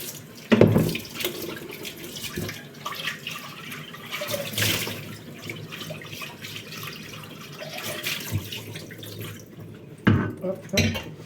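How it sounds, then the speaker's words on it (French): Tap water running into and over a small blackened saucepan, splashing and clattering metal with bursts of louder pouring, close by, with a voice speaking at times. "Alors je vais rincer la petite casserolette."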